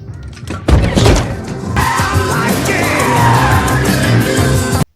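A car rolls over during a crash scene in the 2021 film Nobody, with gangsters inside. Loud, dense crashing and skidding noise begins suddenly and sustains with rumbling impacts before cutting off abruptly.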